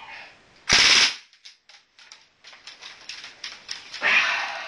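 Gas-powered softguns fire in a sharp, loud burst of rapid cracks, followed by scattered lighter clicks and snaps and a final hissing burst, all close by.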